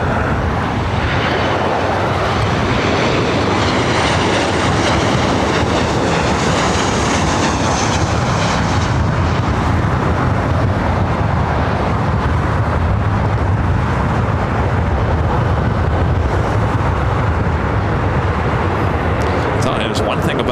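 Steady broadband roar of a Delta airliner landing on runway 24 right at LAX, loud and close, with an air traffic control voice running over it the whole time.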